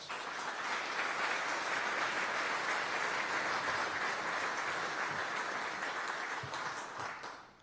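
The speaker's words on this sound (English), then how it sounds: "Let's give Nicor and Habitat a round of applause" A crowd of audience members claps for Nicor and Habitat at a civic event on innovation and technology in Aurora, steady sustained applause at moderate level that carries evenly before tapering off at the end.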